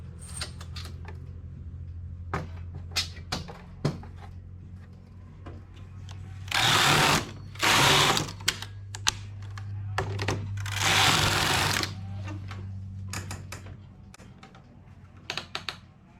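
Domestic knitting machine working the first rows of a piece, with a series of sharp clicks and clacks and several bursts of loud carriage swishes sliding across the needle bed close by.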